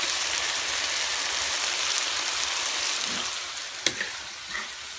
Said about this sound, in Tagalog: Luto ako ng ano ngayon guys, yung ginisa na talong.